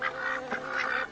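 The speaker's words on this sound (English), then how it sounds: "Oh, so many ducks. Quack, quack, quack." A flock of many ducks on the water gives a run of nasal, honking quacks, steady and fairly close, with no talk over them.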